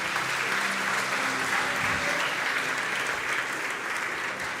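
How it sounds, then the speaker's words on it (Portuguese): A church congregation at a communion service applauding. The clapping is loud, dense and continuous for the whole stretch, with a murmur of voices underneath. "Aplausos ao Senhor."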